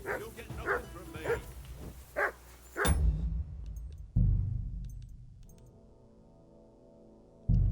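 A dog barking in the video game Kingdom Come Deliverance 2, a few close barks and yips among talk, followed by sharp thumps and a lingering ringing tone.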